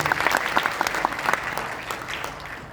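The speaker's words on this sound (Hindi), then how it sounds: "एक बार जोरदार ताली हो जाए" An audience in an auditorium in Rewa claps loudly at a business seminar. The applause is dense and continuous, then gradually thins and fades.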